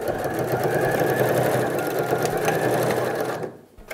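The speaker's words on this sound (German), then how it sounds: "Hierbei die Nähte auch wieder schön verriegeln." A sewing machine runs fast and steadily as it stitches a seam on a SnapPap paper-fabric bread basket, a loud, even mechanical whir that stops abruptly just before the end.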